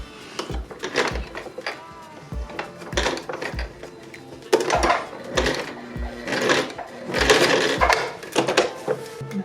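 A sewing machine stitches a zipper onto fabric, its rapid mechanical needle chatter running in bursts with short pauses between, fairly close and clear, with no talking over it.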